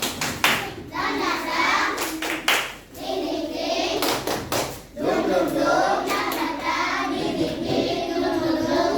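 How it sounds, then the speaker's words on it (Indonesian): Schoolchildren clap a rhythmic spirit pattern in class, bursts of sharp hand claps in quick groups separated by short pauses, with young voices chanting along between the claps. "kita tepuk semangat terlebih dahulu"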